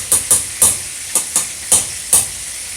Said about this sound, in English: Our vegetables over here are now boiling up a storm.